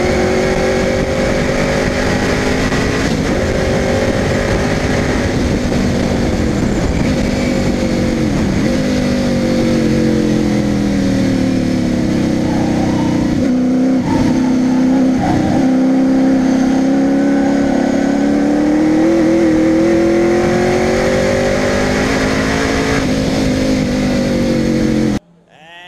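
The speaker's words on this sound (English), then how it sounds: "Cars coming through." Race cars roaring through a corner, engines loud and sustained with pitch rising and falling as they accelerate and pass, one after another, before cutting off abruptly.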